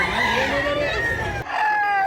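A two-year-old medium-size rooster offered for sale at a Cebuano poultry market crows in a long drawn call close by, with a second shorter crow at the end and chatter from people around it.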